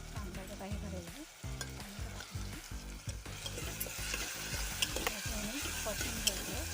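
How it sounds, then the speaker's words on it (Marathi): Tomato and onion sautéing in oil for a traditional wedding-style brinjal and potato curry, a continuous close sizzle broken by rhythmic scraping and stirring strokes. "जरा तेलामध्ये परतून घ्यायचं थोडंसं"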